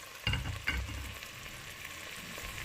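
Ingredients for a noisy stirred together in a pan, with a low, steady sizzle and two soft clunks of a utensil near the start, then continuous faint frying.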